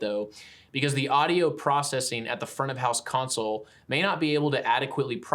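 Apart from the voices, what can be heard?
None of the usual background noises is heard.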